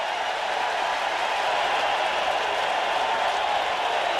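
A big crowd at a baseball stadium roars steadily as it rises to its feet before a full-count pitch, a dense, even wash of cheering with no break.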